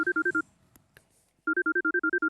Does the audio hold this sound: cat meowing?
no